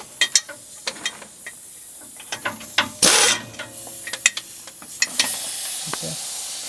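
A ratchet socket wrench loosening cylinder head bolts on an Isuzu engine, outdoors: repeated sharp ratcheting clicks in short bursts with brief pauses, close and clear, with a short hissing burst midway.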